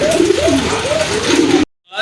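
Pigeons coo in a repeated, rolling rhythm close by over steady background noise, then the sound cuts off abruptly.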